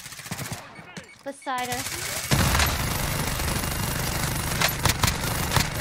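Video game gunfire erupts into a loud, continuous automatic barrage of rapid shots after brief talk, with a few sharper single cracks standing out near the end.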